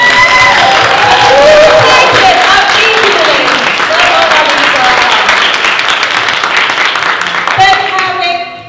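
Loud, sustained applause from a convention audience at a tea dueling finals, with cheering and whoops mixed in, a few voices calling out over the clapping before it fades near the end.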